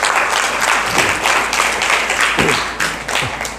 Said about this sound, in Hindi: एक बार ताली बजा दीजिए ब्रदर के लिए।